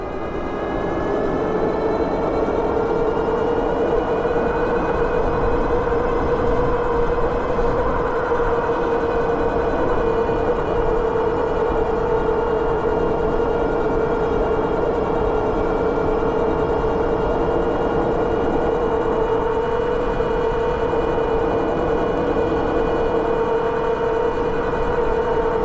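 A Mokwheel Onyx mid-drive e-bike motor running under throttle on an uphill climb, heard as a loud sustained electric whine with a steady tone and faint harmonics over rolling road and wind noise.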